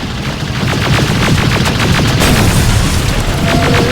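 Sustained automatic gunfire in the video game Terminator Resistance, set downtown, with rapid, dense bursts and booming impacts running loud and unbroken through the whole stretch.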